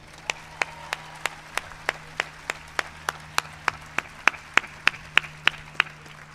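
Evenly spaced single claps ring out at a college commencement ceremony, roughly three per second, crisp and moderately close over a low steady hum, with no crowd wash behind them.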